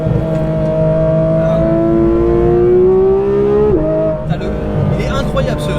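A Porsche GT3 RS with a new exhaust revs loud and close, its note climbing steadily before dropping sharply. The engine then settles back, with voices heard at times.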